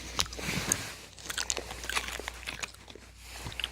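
Orange gummy jelly is chewed up close, giving soft squishy bites and wet crackly chewing noises in an irregular rhythm, fairly quiet.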